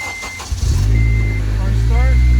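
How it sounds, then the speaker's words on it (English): A 2008 Honda Civic Mugen Si engine cranks briefly and catches, settling into a steady, loud, close idle that continues to the end, with a voice speaking over it. "Car start."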